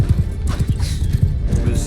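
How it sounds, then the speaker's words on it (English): An armored horse gallops in Mount & Blade 2 during a siege, its rapid hoofbeats thudding in a steady low rhythm under continuous battle noise and voices. "with his armored horse"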